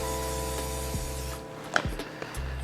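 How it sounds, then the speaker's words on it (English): A short, close hissing spray of cooking spray from an aerosol can onto a baking pan, a couple of quick bursts over a low steady hum. "I think I want a little extra insurance, so I'm just gonna give it a spray"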